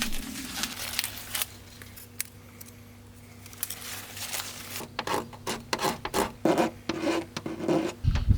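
A razor blade scrapes varnish runs off the car paint of a Suzuki Cappuccino under renovation, with close, repeated rasping strokes that quicken and grow louder toward the end after a quieter start.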